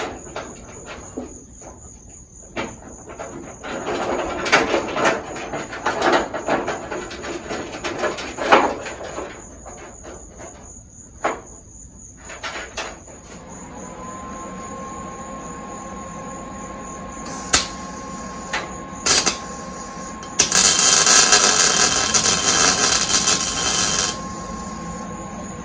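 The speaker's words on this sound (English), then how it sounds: "we'll put the tail panel on the back of this thing and get to welding that" Welding on the steel tail panel of a 1968 Firebird body during restoration: bursts of crackling, sputtering arc noise in irregular runs, then a steadier buzzing stretch with a thin constant whine and a few sharp clicks.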